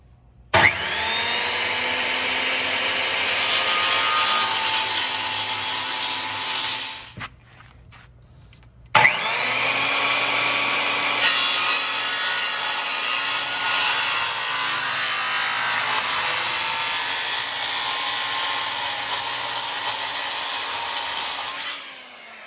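A DeWalt power saw spins up and cuts a piece in two long, loud passes close by, each ringing with a rising whine. A short quiet gap separates the passes, and the motor winds down at the end.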